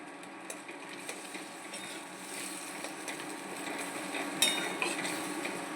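Soft clinks and scraping from a utensil stirring pre-made phulouri fritters into buttermilk in a bowl, close and fairly quiet, with faint irregular taps over a low steady background and no talking.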